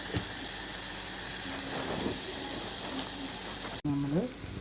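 Crushed onion and curry leaves frying in hot oil, a dense, even sizzle held close and loud throughout, broken near the end by a brief sharp pop and a short low tonal sound.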